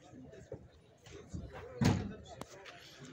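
A car door slams once, sharp and close, at an outdoor weekly used car market in Fez, Morocco, while someone talks steadily through the moment about the car's doors and condition.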